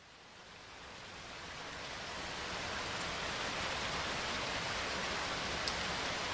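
Heavy rain pours down in a Florida setting as a dense, even hiss of falling water that swells gradually and then holds steady, with no voices.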